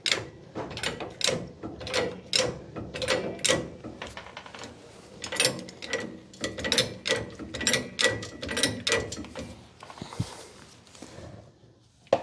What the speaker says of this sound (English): Now we have to jack it up a little bit to get access underneath here to install the nut.